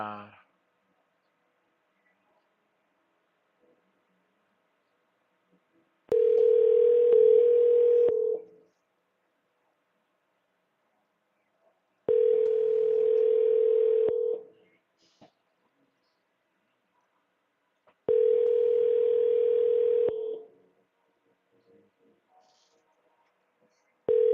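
Three long, steady telephone tones of a few seconds each, separated by silent gaps, clear and alone on a phone line after a number is dialed.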